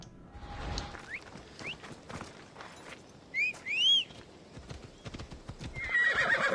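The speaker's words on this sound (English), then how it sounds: "the horse came down from the top of the mountain" Hooves clip-clop at a walking pace in the video game Assassin's Creed Odyssey, then a horse whinnies twice with rising, squealing calls before the hoofbeats pick up again.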